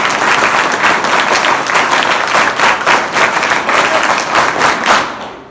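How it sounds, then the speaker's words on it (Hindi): An audience at a motivational talk breaks into loud, close applause, thick continuous clapping that holds steady for several seconds before cutting off at the end. "बजाओ ताली।"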